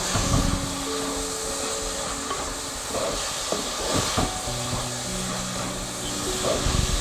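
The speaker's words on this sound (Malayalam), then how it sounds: "അപ്പോൾ നമുക്കിതും കൂടി ഇതിനകത്തേക്ക് ചേർത്ത് കൊടുത്ത് നന്നായിട്ട് വഴറ്റിയെടുക്കാം." Onion, ginger and garlic paste sauté in hot coconut oil for a chicken curry, producing a loud, steady hiss that stays constant throughout, with faint scraping stirs underneath.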